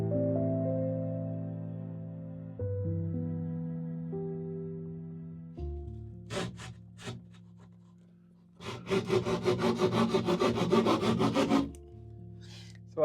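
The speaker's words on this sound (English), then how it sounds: "So you just keep the saw against that." Handsaw cutting through ceiling timber to open a loft doorway, guided along the timber frame: a few short rasping strokes, then a fast run of rhythmic back-and-forth sawing, close and alone after a low hum.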